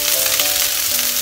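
Sliced sausage fries in a hot pan while tteokbokki is being cooked, giving a steady, close, crackling sizzle that stays even throughout with no talking.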